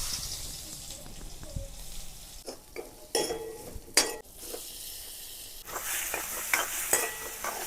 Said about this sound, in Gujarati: સ્વાદ પ્રમાણે હિંગ નાખી દઈશું.